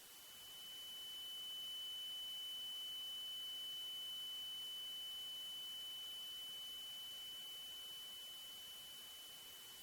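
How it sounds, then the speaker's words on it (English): A simulated ear-ringing tone: one steady high-pitched whine that holds for about ten seconds over a faint hiss, swelling in at the start and easing slightly toward the end, with no voices. "this is what an ear ringing might typically sound like"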